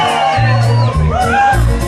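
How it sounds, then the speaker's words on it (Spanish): At a lively party with live band music, a crowd lets out loud whoops and shouts in short bursts over a steady thumping bass, close and energetic. "Un grito para todas las novias."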